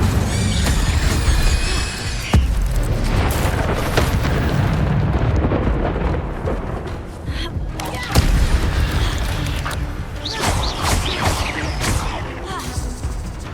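The Incendio fire spell cast repeatedly in the Hogwarts Legacy video game: dense, roaring bursts of flame with crackling impacts, loud and continuous, punctuated by a few sharper booms.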